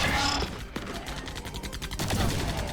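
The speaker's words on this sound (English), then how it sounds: "That artillery fire is a little bit anticlimactic" Artillery fire in the real-time strategy game Liquidation: a run of sharp, fairly thin gunfire cracks, with a clear shot near the start and another burst around two seconds in, over continuous battlefield noise.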